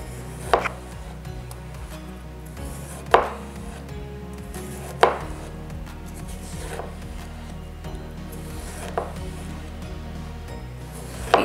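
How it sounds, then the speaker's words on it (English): A Kuroi Hana chef knife cutting food on a board, with a few sharp separate strikes spaced a couple of seconds apart over a low steady background hum, no voices. "I actually enjoy cutting it with this knife."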